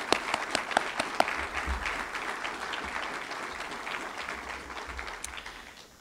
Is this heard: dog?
no